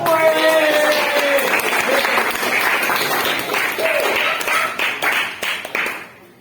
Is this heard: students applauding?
yes